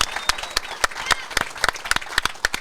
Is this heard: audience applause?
yes